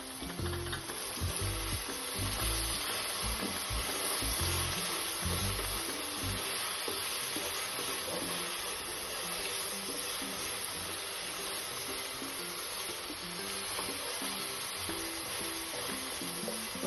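Cloves, chilies and whole spices frying in ghee for ghee rice, a steady close sizzle with occasional stirring scrapes in the pan, running on without any talk.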